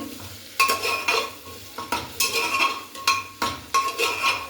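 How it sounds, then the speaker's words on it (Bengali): Chopped beans and carrots being sautéed in butter for a chicken stew, with a utensil scraping and stirring the pan in repeated bursts over a soft, steady sizzle, close and moderately loud, with no talking. "এটাকেও সতে করে নেব মাখনের সাথে"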